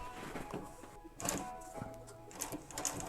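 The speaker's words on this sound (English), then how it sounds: "we'll go ahead and sew this one on here real quick" A sewing machine stitches car seat upholstery for an old Cutlass, running in short uneven bursts of rapid mechanical clatter with brief pauses and thunks between runs, close and moderately loud.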